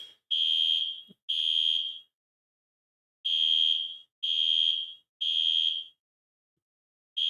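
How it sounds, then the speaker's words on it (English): Loud, piercing fire alarm sounding alone in repeated bursts of electronic tone: two long blasts, a pause, then three more, with a final burst beginning at the end. "So hopefully they will turn off this fucking alarm."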